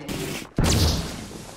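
Gunfire in Apex Legends: a short hush, then a sudden loud burst of shots with a sharp crack and ringing tail.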